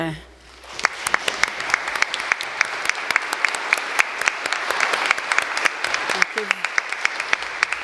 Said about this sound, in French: Nous pouvons chaleureusement les applaudir.